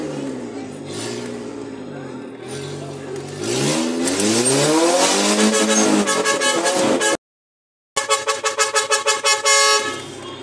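Loud car horns honk and blare close by, sustained tones over engine noise and voices, ending in a rapid series of short toots.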